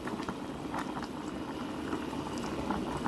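A pot of langoustines bubbling at a steady boil, a continuous low rolling churn of liquid with faint occasional pops and no voices.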